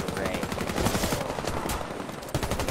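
Rapid automatic gunfire in the video game Warface, a dense fast burst of shots that carries on for about three seconds, with no talking.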